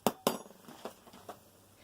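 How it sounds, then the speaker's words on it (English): A metal spoon clinks against a small glass baby food jar while stirring a baking soda mix: two sharp bright taps, then a few softer scattered clinks, close and quiet with no talk. "Just a spoon to stir."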